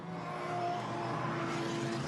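Race car at Circuit Park Zandvoort during a Dutch Supercars event, its engine a steady, fairly distant drone that holds at an even level throughout without passing by.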